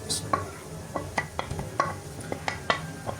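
Mutton keema being stir-fried with cumin and mixed spices, a low sizzle beneath a steady series of sharp spatula scrapes and clinks against the pan, close and fairly loud, no talking.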